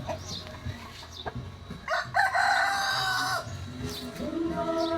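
A rooster crows loudly and close by, a long drawn-out call in the middle, with softer clucking before and after.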